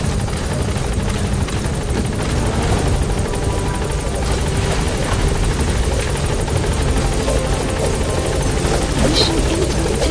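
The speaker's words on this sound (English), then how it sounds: "Select a landing zone. With support helicopter" A support helicopter in a video game arrives with steady, loud rotor thumping and turbine whine that fills the scene throughout, with faint game voices beneath.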